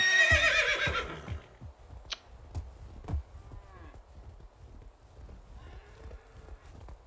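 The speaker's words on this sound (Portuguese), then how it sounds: "Diacho de vaca." A cow in the video game Medieval Dynasty moos loudly at the start, followed by scattered clicks, thumps and soft game sounds, with a few fainter lowing calls later.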